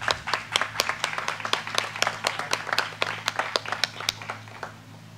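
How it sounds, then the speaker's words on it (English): An audience claps and applauds for aquarium staff at a coral reef event, with dense, steady hand claps that continue for several seconds and fade slightly toward the end, without voices. "So a round of applause for the staff"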